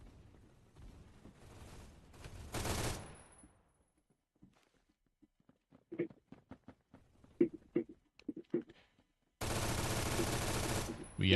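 An M60 machine gun fires in the video game Phantom Forces, with loud sustained bursts at the start and end. Someone talks between them, with faint clicks in the quieter stretch.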